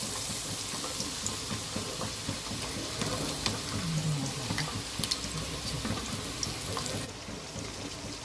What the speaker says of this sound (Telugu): ఆనియన్స్ వేసేసుకుని తొందరగా ఫ్రై అవుతాయండి